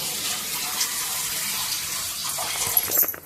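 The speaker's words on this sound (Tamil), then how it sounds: "இன்னும் கொஞ்சம் தண்ணி ஊற்றலாம்." Water pours steadily into a pot of kara kulambu gravy made with kadalai paruppu urundai and tamarind water, a continuous close splashing stream that briefly grows more turbulent toward the end.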